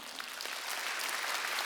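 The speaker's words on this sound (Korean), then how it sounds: "박수 좀 쳐줘요." A church congregation applauds during a Korean Wednesday worship service, dense steady clapping that fills the room evenly and stays at one level for under two seconds.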